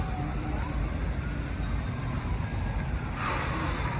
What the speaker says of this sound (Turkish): Burada yoğun bir trafik var.